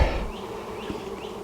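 Honeybees from a swarm trap buzz steadily and close, a dense continuous hum with individual insects swelling past, heard alone without voices.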